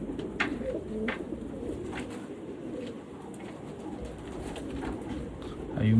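Red çil pigeons cooing at an outdoor bird market, soft low repeated coos close by over a busy ambient murmur.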